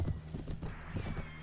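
Horse hooves clip-clop in a steady rhythm in a 1860s Old America mod of a video game, with a brief whinny, close and fairly loud.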